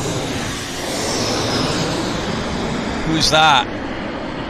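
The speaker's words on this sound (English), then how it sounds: "WestJet's greasing it down there." A WestJet airliner touches down at Vancouver Airport, its broad, steady jet roar sounding from a distance beneath people chatting nearby.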